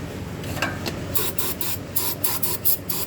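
Brake cleaner sprays onto engine parts during a rod bearing replacement. A run of short, hissing aerosol bursts comes up close in quick succession, with no talking.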